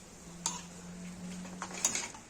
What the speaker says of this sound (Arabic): البصله مع الزيت مع شويه ديال الملحه، نحركو